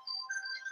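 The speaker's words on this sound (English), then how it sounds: "my partner's phone is ringing." A mobile phone ringtone plays a faint, brief electronic melody with warbling tones, heard at a distance in a quiet setting.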